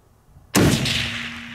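A single loud rifle shot fired at a mule deer during a hunt, a sharp close blast at about half a second followed by a long rumbling echo that rolls away across open country.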